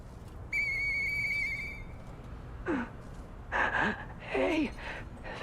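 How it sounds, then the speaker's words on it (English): A whistle sounds in the Lies of P video game as one sustained clear tone. Later come brief breathy vocal sounds such as gasps and sighs over a quiet ambient background. "I know that whistle."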